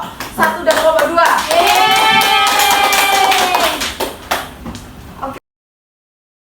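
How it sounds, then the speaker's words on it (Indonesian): Students in an Indonesian primary school classroom clap for two presenting groups, a brisk burst of close, moderately loud hand claps mixed with excited children's voices and a sustained sung or chanted tone, fading after about five seconds. "Kita beri tepuk tangan dulu buat kelompok 1 dan kelompok 2."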